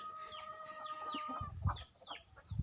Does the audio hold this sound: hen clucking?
yes